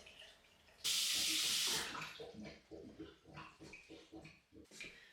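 A tap gushes hot water loudly for about a second, then cuts back to quieter splashing and dripping sounds at a sink.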